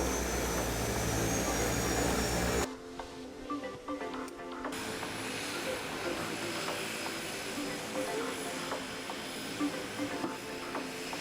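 Cabin of an airliner landing at an international airport in the Maldives, with a steady loud engine roar that drops abruptly partway through, then continues as a lower rumble with faint cabin noise.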